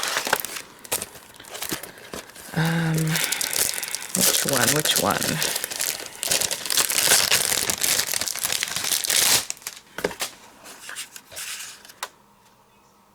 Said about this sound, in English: So let me grab some gold paper